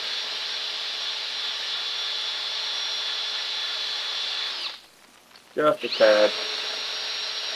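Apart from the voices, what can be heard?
cleaning up an engine mating surface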